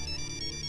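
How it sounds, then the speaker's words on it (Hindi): A phone ringtone chimes steadily and loudly, a continuous electronic tone with no talk over it. "किसका फोन है? पापा का फोन है।"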